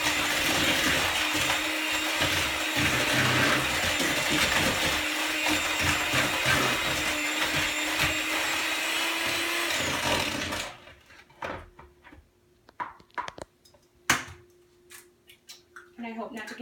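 Electric kitchen mixer whirring steadily through cookie dough with eggs added, loud and continuous for about ten seconds, then switching off, leaving quiet clicks and light handling noises.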